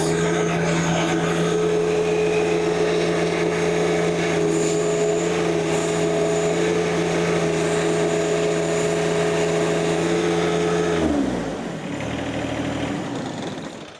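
A John Deere 1025r compact tractor engine runs at raised RPM with a steady, loud drone and whine, then drops in pitch and settles lower near the end.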